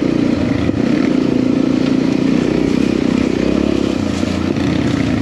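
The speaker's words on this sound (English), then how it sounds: "this Yamaha XT Z660 is not stock" A modified Yamaha XT Z660 with WP suspension rides along on roads in Portugal, its engine giving a steady mid-range drone with wind rush, close and continuous.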